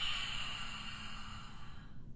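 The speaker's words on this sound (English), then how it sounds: "squeeze the glottis right here, producing a ha sound" Ujjayi yoga breath is exhaled through the mouth with a squeezed glottis, giving a soft, steady breathy ha sound. It is faint and close, with a hissy airy texture that fades out at the end.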